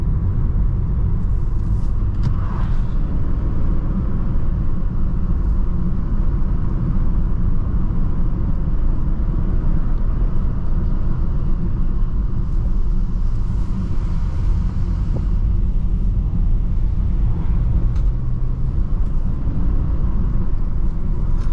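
A BMW E90 328i sedan on the road, heard from inside as a steady low engine and tyre rumble with constant road noise, no pauses, loud and close for the whole stretch.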